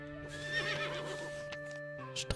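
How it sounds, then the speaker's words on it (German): A horse whinnies in the video game Above Snakes, a bright neigh rising over steady game music and ambience, followed by a few short snorts and hoof sounds near the end. "Ja, du süßes kleines Pony."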